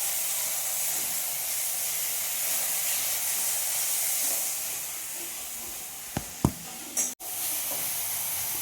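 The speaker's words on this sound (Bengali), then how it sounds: "ভালো করে মশলাটা অনেকক্ষণ ধরে কষিয়ে নেব।" A spice paste with garam masala fries in a pan as a steady, close hiss and sizzle that runs without a break, with a few sharp clinks of stirring near the end.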